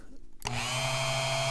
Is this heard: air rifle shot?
no